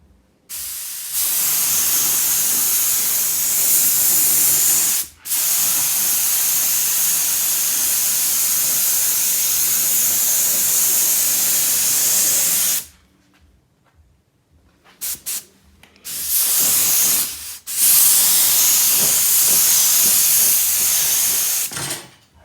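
Long, loud hissing bursts of a spray gun applying rust-proof coating to a vehicle frame, one continuous blast followed by several shorter sprays with brief quiet gaps between them.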